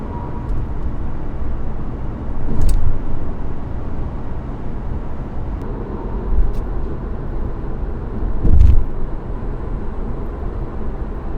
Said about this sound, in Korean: 풍절음이 약간씩 유입되지만 장시간 주행을 하더라도 전혀 불쾌하지 않은 아주 정숙한 주행 소음을 들려주었습니다